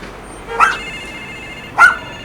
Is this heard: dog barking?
yes